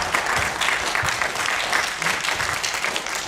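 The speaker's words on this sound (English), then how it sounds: "Please give them a round of applause." An audience at a student pitch event applauds as presenters of a 2020-themed card game come out, a steady wash of many hands clapping, loud and sustained throughout.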